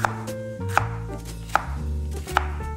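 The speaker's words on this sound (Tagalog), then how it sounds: "Tapos po ay gagayatin natin 6 strips." Bitter melon chopped into strips on a cutting board: four sharp, evenly spaced knife strikes land about every three-quarters of a second, close and clear, over a faint background hum; no talking.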